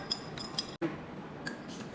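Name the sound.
stirring a mixture in a science class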